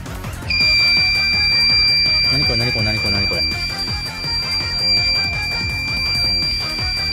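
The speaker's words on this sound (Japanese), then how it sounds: "これインバーターからのブザーと思うんですけど、これ電圧の降下した警告なんですかね" An inverter's low-voltage warning buzzer sounds as a deep-cycle lead-acid battery on a bus, running a household air conditioner, sags toward 10.5 to 11 volts. A steady, piercing, unbroken high tone starts after half a second and continues beneath someone talking.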